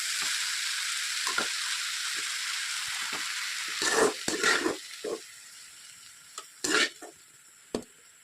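Boiled egg noodles being stir-fried with vegetables in a pan, a continuous hissing sizzle broken by several clattering stirs and tosses, close up.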